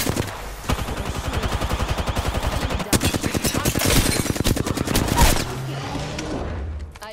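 Rapid bursts of automatic gunfire from an Apex Legends firefight, dense repeated shots with a short break near the middle, then a louder flurry before fading, with no talk over it.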